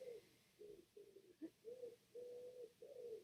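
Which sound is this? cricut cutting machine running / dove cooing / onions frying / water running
dove cooing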